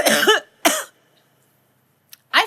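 Two sharp, loud coughs close to the microphone, a quiet pause, then a tiny click and another short cough.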